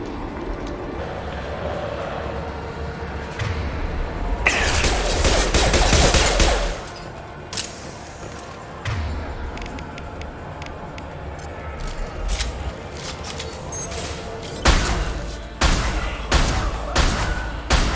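Rapid gunfire bursts from Mass Effect 2 combat, dense volleys of shots that cut out, then return as a run of sharp, separate cracks toward the end.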